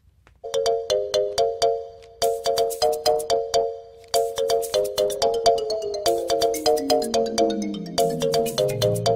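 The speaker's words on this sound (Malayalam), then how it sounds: "നിന്റെ ഫോൺ ബെല്ലടിച്ചു, ഞാൻ നോക്കാം വന്നാ." A mobile phone ringtone plays a repeating melodic chime pattern in bursts, loud and close, with no voices over it.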